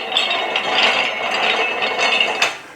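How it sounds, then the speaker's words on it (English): Ratcheting clicks and a mechanical rattle come from tightening the centerpiece down on a Harbor Freight tire changer fitted for LT truck tires, steady and close for nearly three seconds with a few sharper clicks near the end, and no talking. "You're gonna tighten down your centerpiece"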